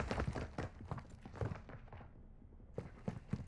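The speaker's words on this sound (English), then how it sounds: "I love the footstep sounds in this game" Footsteps of a player character moving through a map in Call of Duty: Modern Warfare 2 during a hide and seek match, a quick run of close, soft thuds with a brief pause before the steps resume.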